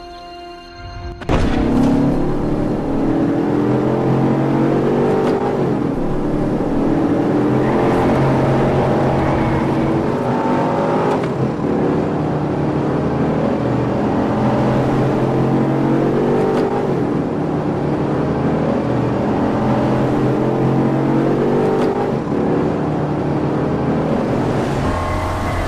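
BMW X5 driving on the Nürburgring racetrack, its engine a loud steady drone with shifting pitch that sounds alone for about 25 seconds after an abrupt start, revving and changing gears along the way.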